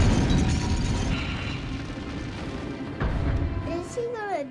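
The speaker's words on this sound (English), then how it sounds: "This is a flashbang." A flashbang in The Legend of Spyro: A New Beginning, a dense booming burst that decays into a rumbling wash, with game effects and whooshing tones rising near the end.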